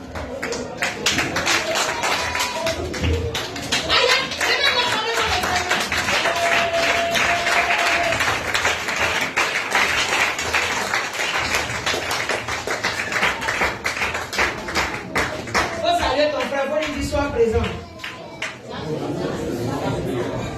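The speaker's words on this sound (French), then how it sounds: "Levez-vous, acclamez-moi le Seigneur." Church congregation clapping and cheering in acclaim at a Sunday service, loud, dense rhythmic applause with voices calling out over it, continuing throughout before easing near the end.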